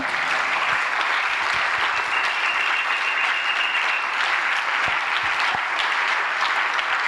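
A church congregation applauds to acclaim the king during a worship seminar, producing a dense, loud, sustained wash of clapping from a large crowd that holds evenly throughout.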